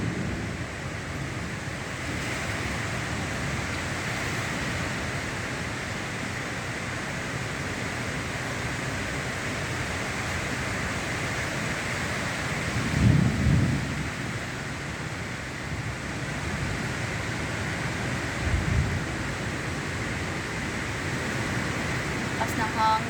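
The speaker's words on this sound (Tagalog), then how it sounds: "Lakas ng hangin." Strong wind roars steadily through a heavy rainstorm, a dense continuous rush with a few louder gusts, while a person talks faintly in the background.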